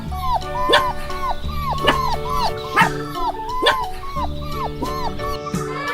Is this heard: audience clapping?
no